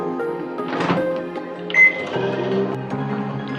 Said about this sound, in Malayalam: നമുക്കിത് ചിക്കൻ ഓവനിൽ വെക്കാം. ഒരു 13 മിനിറ്റ് വെച്ചാൽ മതി.